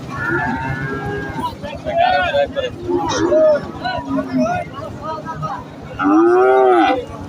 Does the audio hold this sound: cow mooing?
yes